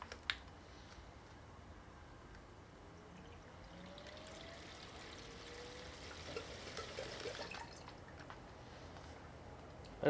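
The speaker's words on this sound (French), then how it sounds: "Donc là le liquide a commencé à revenir dans le réservoir." Watercooling liquid flowing back into a PC reservoir during filling, a faint, continuous soft trickle and gurgle that swells slightly toward the end, with a couple of sharp clicks at the start and finish.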